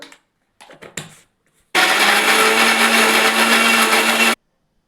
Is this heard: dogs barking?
no